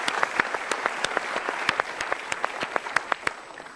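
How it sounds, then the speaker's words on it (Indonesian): Audience applause in a hall at an Indonesian motivational talk, a steady wash of many hands clapping with sharper individual claps standing out, moderately loud and continuous throughout with no voices over it. "Tepuk tangan sekali lagi untuk sahabat-sahabat kita dari kita para akar"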